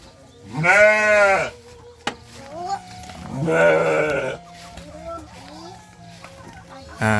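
Two long, wavering goat bleats, one at the start and one midway, loud and close, with faint voices and quieter sounds in between.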